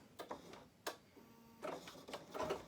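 Embroidery machine stitching out the next sequence of stitches to tack down an appliqué piece, heard as faint, intermittent mechanical ticking bursts that pick up into a steadier run of quick stitching near the end.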